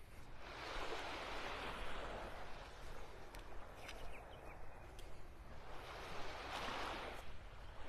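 Surf on Vanderbilt Beach in North Naples, Florida, washing in and out: two broad swells of breaking waves rise and fade over a steady ocean hiss, heard from the shore with no voices.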